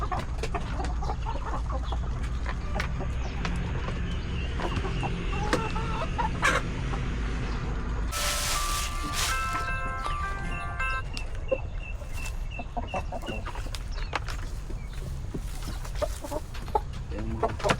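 Backyard chickens cluck in a busy, noisy outdoor setting, the calls scattered across the clip under steady background noise and some faint talk.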